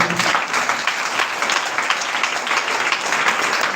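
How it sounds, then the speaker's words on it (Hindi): Congregation at a Sunday prayer meeting claps loudly together, a thick, sustained roar of many hands with a slight pulsing rhythm running all the way through and no voices over it. "जोरदार ताली बजाएं"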